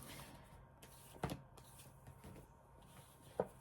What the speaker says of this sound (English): I'm going to keep shuffling a few more times here